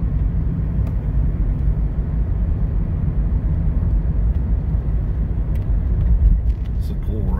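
A Jeep rumbles along a bumpy, potholed country road, its low engine and road noise a loud steady drone from inside the cab, with a person talking over it.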